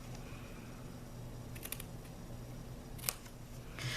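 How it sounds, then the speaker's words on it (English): Scissors cut score lines in cardstock while making a tuck-flap gift treat box: a few short, crisp snips at close range over a quiet room hum, with no speech. "cut out each of the score lines from the edge into that first intersecting score line, and cut out a little piece and debulk"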